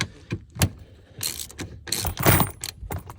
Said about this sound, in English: Just gonna torque them up.